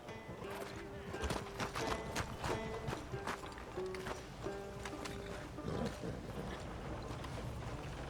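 Horse hooves clip-clop at a steady riding rhythm in Red Dead Redemption 2, close and fairly quiet, with brief background tones and noises layered over the hoofbeats.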